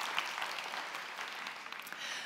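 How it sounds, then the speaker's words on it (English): Audience applause at a talk on financial and mental abundance, a brief, fairly faint wash of dense clapping that holds steady for a couple of seconds. "give them a round of applause, because they will take action."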